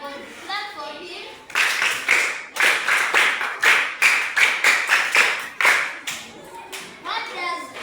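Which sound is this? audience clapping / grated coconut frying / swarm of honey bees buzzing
audience clapping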